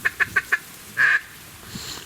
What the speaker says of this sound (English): Oh, big group of ducks.